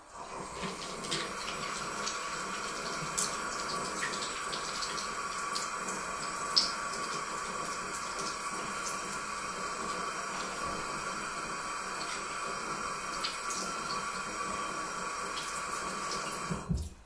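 Makeup brushes rinsed under a running tap, a continuous, even rush of water into a sink lasting the whole stretch with occasional small clinks, close and with no talking.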